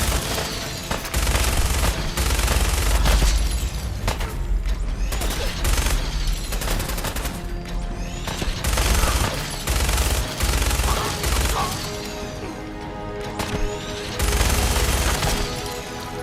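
Minigun in Fallout 4 firing long salvos of bullets, loud continuous roaring bursts that stop and restart several times, with heavy low booms and clattering impacts throughout.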